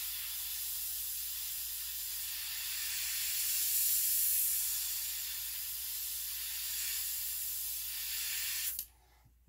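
A paint spray gun hisses steadily for about nine seconds while coating a shad-pattern crankbait lure, a close, even airy spray that shifts slightly in strength before cutting off abruptly.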